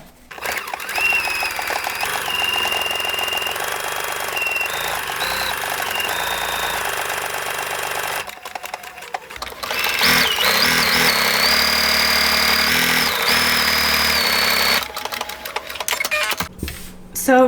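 A sewing machine stitching a buttonhole on a summer top as the pedal is pressed, running in a steady loud whir with a brief pause partway through before it resumes.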